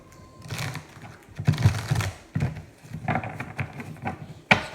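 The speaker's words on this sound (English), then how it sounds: "we'll shuffle one more time and we will pull a card from there." New, stiff tarot cards being shuffled by hand at close range, a series of crisp riffling and flicking bursts in an uneven rhythm with short pauses between, no talking.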